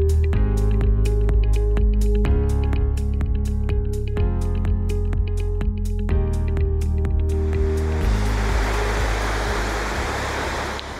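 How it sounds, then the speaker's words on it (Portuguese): Cachoeira Casarão, a waterfall reached by a short trail hike in Brazil, roars as a steady, loud broadband rush in the final few seconds, after a stretch of music. "dá só uma olhada no que é a Cachoeira Casarão"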